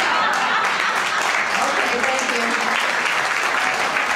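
A room full of people gives sustained applause at the close of a guest's segment on a talk program, with a voice speaking briefly over the continuous clapping.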